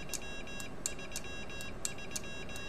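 Morse code keyer tones sent for the number 3 with a WinKeyer USB, short faint beeps in a quick repeating pattern over steady background hiss.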